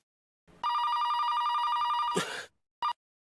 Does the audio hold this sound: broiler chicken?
no